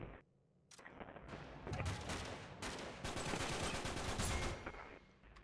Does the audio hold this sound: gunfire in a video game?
yes